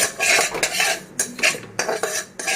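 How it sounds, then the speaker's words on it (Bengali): Hilsa fish pieces being lightly fried in a pan with panch phoron for a doi ilish dish, heard as repeated metallic scraping and clinks of a utensil against the pan over a faint sizzle, close and fairly loud, no talking. "এবার মাছগুলোকে একটু সামান্য আলতো করে একটু ভেজে নেব"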